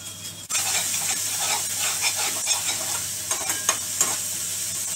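Onion, chilli and ginger sauté in a hot pan, a steady close sizzle with frequent stirring scrapes and small clicks of a spoon against the pan, no voices.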